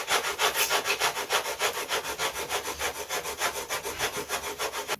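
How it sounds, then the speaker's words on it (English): Sanding the wingtip of a vintage aerobatic model glider by hand: a steady, rhythmic rasp of abrasive paper scrubbing wood, close and even, roughly four strokes a second, with no talk. "You want to keep sanding till you just start scoring into this"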